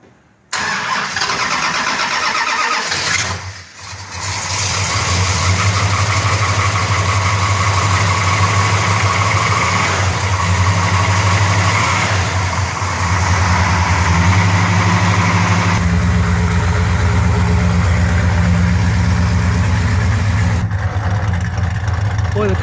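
A 1964 Dodge Polara 500 engine starts with a cranking burst and catches, then settles into a loud, steady idle with a deep rumble that keeps running, a brief dip partway through and a shift to a lower note near the end.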